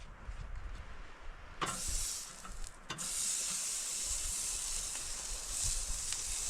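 A steak cooking in a pan while camping in a rig in the mountains: a strong, steady, hissing sizzle builds up after a couple of quieter seconds and sharp pops, then carries on close and loud with no talking.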